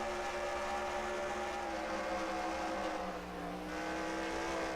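Truck engines roar together in a NASCAR Racing 2003 Pennzoil Truck Series race, a dense, steady, loud engine drone with layered tonal whine that holds throughout and dips briefly near the end.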